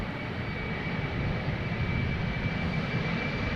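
KLM jet airliner departing Amsterdam Schiphol: continuous jet engine roar with a thin steady whine above it, moderately distant and even in level, with no voices.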